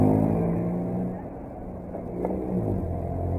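A quad ATV engine, a machine with a loose carburetor and a spark problem, runs steadily with a low, throaty rumble that dips and then rises as it revs close by. No one speaks over it.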